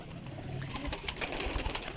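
Soft cooing from young high-flying Halas pigeons in a loft, faint and continuous with scattered shuffling and clicks, no talking.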